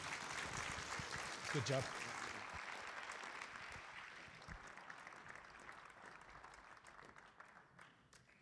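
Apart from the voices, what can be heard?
audience applause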